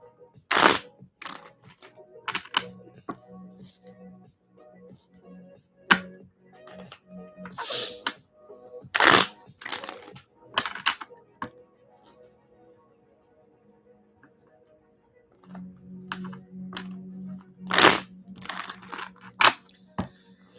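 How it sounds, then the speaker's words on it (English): Playing cards are shuffled in repeated bursts, sharp riffling crackles and flutters separated by quiet gaps and soft handling, heard close up. "Give us a good shuffle before we get started."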